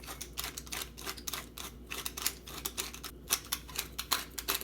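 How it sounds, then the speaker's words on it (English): Pepper grinder cranked by hand to grind pepper in a kitchen, a steady run of dry crackling, crunching clicks, close and fairly quiet, with no talking. "this grinder does a fine grind, this grinder does a coarse grind"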